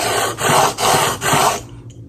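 Fixed-blade broadhead drawn across a sharpener in three steady rasping strokes with brief pauses between them, close and loud with no talk.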